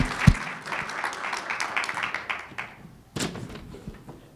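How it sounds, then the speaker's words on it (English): An audience at a university talk applauds a guest speaker, moderate clapping that tapers off, with a thud near the start and a short second burst of claps after a brief lull. "Let's give him a hand of applause."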